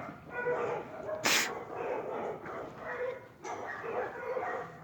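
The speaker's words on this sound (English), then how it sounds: "That's that German Shepherd next door, boy. He ain't playing." A German Shepherd next door barks in short, muffled bursts from a distance, with one louder sharp bark, under steady background noise.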